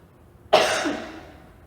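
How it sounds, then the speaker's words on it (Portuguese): A single short cough bursts out close and sharp, then trails off over about a second into quiet. "eu vou tossir"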